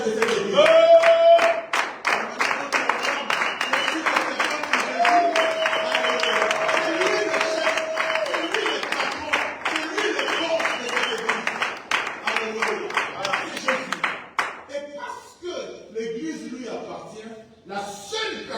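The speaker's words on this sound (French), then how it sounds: "Mais on peut acclamer pour le chef de cette église." A church congregation applauds and cheers in rhythmic, steady clapping that carries on for most of the stretch before thinning out, with voices calling out over it.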